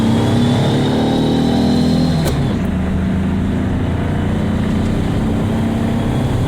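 A car engine hums and revs under load on a test drive, a loud continuous interior drone with a rising then dropping pitch and a shift around the middle, heard close from inside the cabin.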